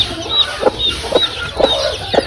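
Hens cluck and chirp close by alongside newly hatched chicks after an egg hatching batch, a steady run of soft clucks with high peeps recurring every half second or so.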